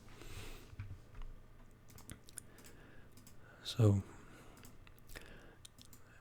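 A computer mouse clicks in sparse, light taps at close range amid quiet room noise, with a brief spoken word midway.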